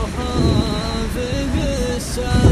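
Heavy rain falls steadily and loudly in the eastern region during a storm, a dense close wash of water with thunder rumbling underneath, and no voices.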